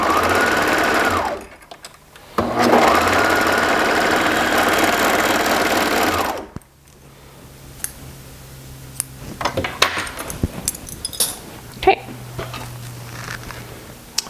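A sewing machine runs loudly in two steady bursts while stitching the shoulder seams of a knit T-shirt, then stops, leaving quieter handling clicks and rustles.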